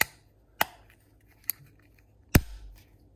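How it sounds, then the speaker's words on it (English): Plastic cover of a Honda smart key fob snapped back into place, heard as a few sharp, close clicks spaced apart, the last one loudest, in a quiet room. "we're gonna put the plastic back, and then you just have to push it"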